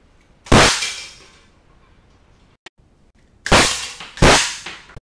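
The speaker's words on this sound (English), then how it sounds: "Three shots in the pellet trap as quick as I can." Three quick, sharp pellet gun shots slap into a metal pellet trap at close range, coming after a single earlier shot and a faint click, with no one talking.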